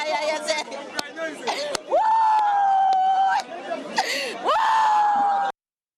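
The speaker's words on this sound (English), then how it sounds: "you can see the wailing crowd, people who have lost their relatives" A grieving crowd of people who have lost relatives wails at the scene of a deadly incident. Long, rising, tremulous cries sustain over a babble of distressed voices, loud and close.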